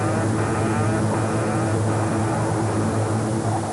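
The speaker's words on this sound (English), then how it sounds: "The plane stalls and falls from the sky." An airplane stalls and drops from the sky, producing a loud, continuous broadband roar of engine and rushing air that holds steady and dense throughout, with no voices.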